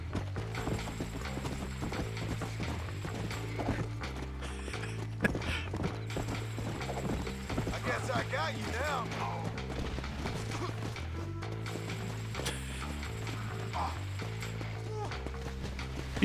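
Horse hooves clip-clop steadily in Red Dead Redemption, running under a continuous layer of game music and mechanical clatter, with players talking over it throughout.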